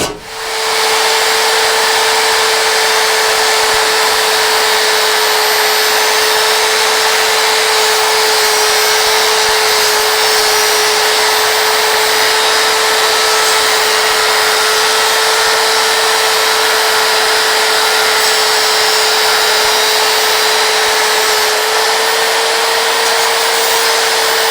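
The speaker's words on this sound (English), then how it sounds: "I shall get this grinder." A grinder works on metal during the restoration of a Nauticus 27 ft boat, giving a steady high whine over a harsh, hissing grind that runs unbroken and close for the whole stretch, with no talking.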